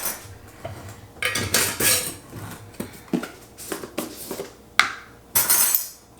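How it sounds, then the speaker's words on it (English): Berry pie filling stirred with cornstarch in a bowl: repeated close clinks and scraping of a utensil against the dish in irregular bursts, some sharp and loud, with no talking. "add the 3 tablespoons of cornstarch in here and mix that around"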